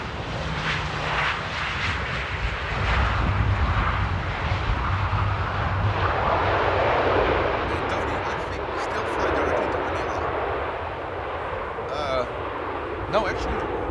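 Airliner landing at Amsterdam Airport at dusk, a broad roaring jet rumble that swells and slowly fades, heard from a distance with people talking over it throughout.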